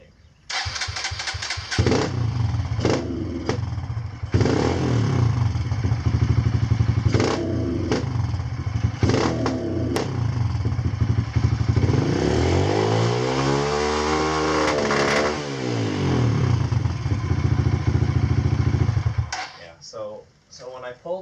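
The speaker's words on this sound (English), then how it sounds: "when I pull the choke out, it revs really good" A Kawasaki dirt bike engine with a newly installed carburetor revs hard in repeated bursts, climbing and dropping in pitch, loud and close, with a rising sweep near the end before cutting off.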